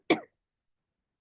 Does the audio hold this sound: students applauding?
no